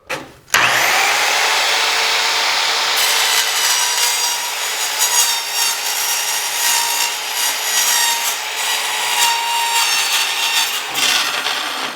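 An Evolution multi-material track saw cuts through 14 gauge sheet metal with a loud, steady, harsh whine and grinding rasp that spins up abruptly and holds for about ten seconds before winding down.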